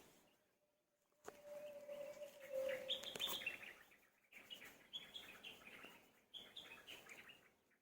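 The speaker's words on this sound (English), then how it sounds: "You might be hearing the birds." Birds chirp and tweet outdoors near Arunachala in Tiruvannamalai, a faint scatter of short calls over quiet background, a steady low tone sounding briefly early on.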